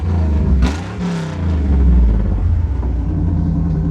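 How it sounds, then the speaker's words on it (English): A 1987 Chevrolet Camaro IROC Z28 with a gnarly dual exhaust revs loudly up close, a deep rumbling idle swelling in two quick throttle blips before settling into a steady, heavy burble. "Just a sweet car, great sounding dual exhaust."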